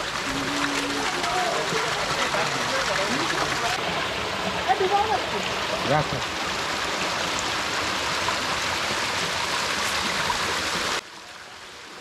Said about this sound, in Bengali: হঠাৎ যেতে যেতে কানে আসবে হালকা পানির ঝমঝম শব্দ